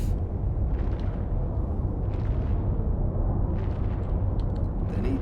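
Heavy shells slam into a warship's armor during a naval video game battle, a dense, continuous roar of booms and blasts with armor plates being shot off, loud and unbroken with no pauses.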